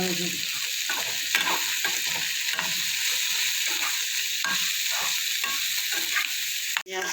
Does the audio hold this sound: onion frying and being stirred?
yes